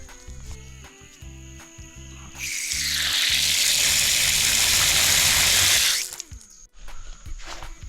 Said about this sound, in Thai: ก๊อกน้ำนี่น้ำไหลแรงดีเลยนะ